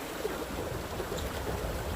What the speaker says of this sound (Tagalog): ito yung batis na to